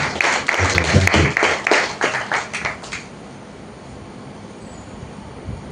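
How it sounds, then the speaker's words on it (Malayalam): An audience at a church Sunday school anniversary claps to welcome the chairman, a dense burst of applause that thins out after about three seconds into quiet room noise. "ഇപ്പോൾ നമ്മുടെ അധ്യക്ഷനെ നമുക്ക് കൈയടിച്ച് ഒന്ന് വെൽക്കം ചെയ്യണ്ടേ?"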